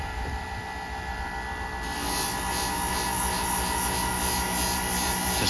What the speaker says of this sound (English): Now I'm going to do the polishing on the Convex. That's just a series of strokes.